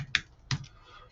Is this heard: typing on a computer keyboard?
yes